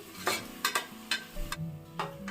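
Green chili and onion pieces fry in a pan for Andhra-style gongura mutton curry, with a low sizzle under four or five quick, sharp scrapes and clinks of a stirring spoon.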